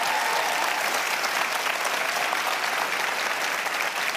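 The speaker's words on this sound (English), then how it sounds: "So give them a round of applause." A luncheon audience gives a round of applause for students who have just presented a project, a steady, dense roar of many hands clapping at close range for a few seconds without a break.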